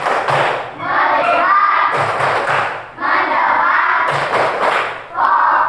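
A school class runs through the 'tepuk fokus' focus-clap routine, with loud group chanting punctuated by rhythmic bursts of hand claps and thuds in repeated phrases.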